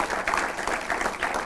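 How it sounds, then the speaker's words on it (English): Audience applause at a talk: a short burst of continuous, dense clapping from a crowd, loud and even throughout. "A round of applause for him."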